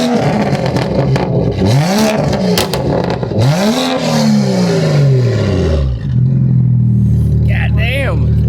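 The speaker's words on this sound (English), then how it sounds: "you can hear that M Performance exhaust, how throaty it is." BMW F87 M2 with the N55 engine and an M Performance exhaust, revving hard in repeated throaty surges that rise and fall, loud and close, with voices talking at times during the pulls.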